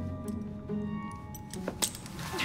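A set of keys is handed over in Assassin's Creed Syndicate, giving a few faint, brief metallic jingles and clinks over a quiet, hushed background.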